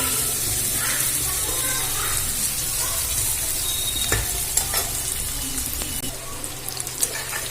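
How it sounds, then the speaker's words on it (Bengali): Steady sizzling of onions frying in a pan, with occasional clinks and scrapes of stirring; continuous and fairly loud with no voices. "পেঁয়াজটা আমি লাল লাল করে ভেজে নেব"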